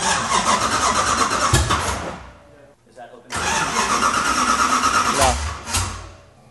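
A 1968 Dodge Charger with a Mopar 440 V8 cranks and catches twice, rumbling loudly up close, dropping briefly between attempts, then roaring back with rough revving.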